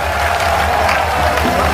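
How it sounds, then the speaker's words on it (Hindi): A crowd at a Tejaji temple program claps loudly with raised hands, a dense, continuous wash of applause under a heavy low hum from the sound system. "दोनों हाथ ऊपर उठाकर जोरदार तालियां के साथ मना आदेशित करे"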